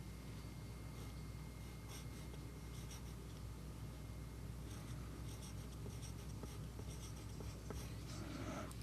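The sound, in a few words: pencil writing a name on paper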